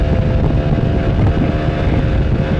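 An Italjet Dragster 125 DOHC scooter rides along on a weekend trip toward Imjingak, its engine droning steadily and loudly, mixed with rushing wind across the microphone, with no talking.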